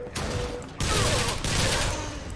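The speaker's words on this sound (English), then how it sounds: "We had one bullet for the shotgun" Shotgun fire in the video game Bioshock Infinite comes as loud, dense broadband blasts, three back-to-back roaring bursts that fill the whole stretch with little quiet between them.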